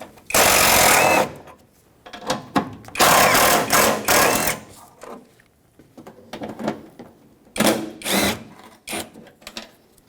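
Power ratchet or drill driving out 10mm headlight mounting bolts on a 2012-2019 Fiat 500, heard as several loud whirring bursts of about a second each, separated by brief pauses and smaller clicks, with no talk.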